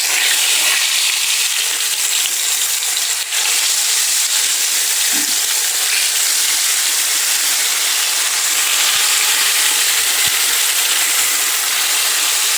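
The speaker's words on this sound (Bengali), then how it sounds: "দেখেন আমার তেলটা গরম হয়ে গেছে। এখন আমি কই মাছটা দিয়ে দিব।" Koi fish sizzling and frying in hot oil in a home kitchen, a steady, dense hiss running continuously and loudly throughout with no talk.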